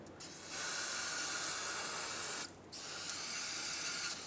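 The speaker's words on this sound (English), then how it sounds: "I'm going to use some brake parts cleaner and just spray it all in here to clean off any rust and debris that's in here." Brake parts cleaner blasts from an aerosol can into the steering knuckle of a 2003-2009 Dodge Ram 2500 during an outer tie rod job, two long loud hissing sprays nearby with a brief pause between them.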